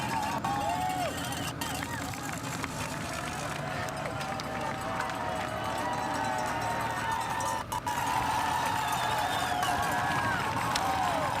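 Dense crowd din at Solar Hill during the Challenge Roth triathlon, a steady wall of cheering and hubbub from spectators lining the climb, continuous and loud with commentary talking over it.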